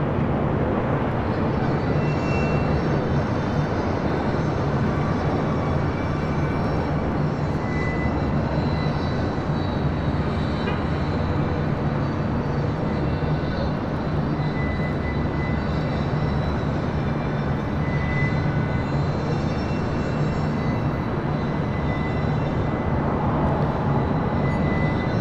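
Airplanes at LAX airport, a continuous loud engine roar with a steady broadband rumble and faint whine, unbroken throughout with no voices.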